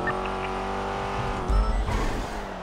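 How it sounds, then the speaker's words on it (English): A car drifting in a police roleplay video game, its engine roaring steadily with a long tire squeal that swells louder near the middle before easing off, heard alone. "Catch up with the drifting car."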